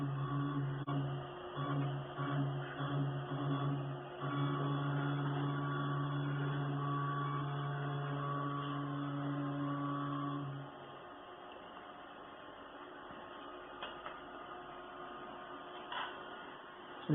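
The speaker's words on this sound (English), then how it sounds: "so I want to extrude clay again" A Delta WASP 40100 clay 3D printer extrudes clay with a steady mechanical hum and whine that runs alone for about ten seconds, then drops away to a quiet background with a few faint clicks.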